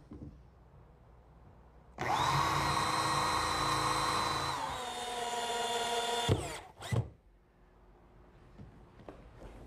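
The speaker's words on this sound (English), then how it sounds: "And now the center cleat, some more construction adhesive and screws," A power drill drives screws into a wooden cleat on a table prototype, running loud and steady for a few seconds, dropping in pitch as the screw seats, then two short bursts follow before quiet.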